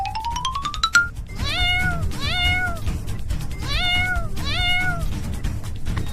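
A kitten meows in a cartoon, a series of four bright, rising-and-falling mews spaced evenly over a steady noisy background, preceded by a short chiming tone.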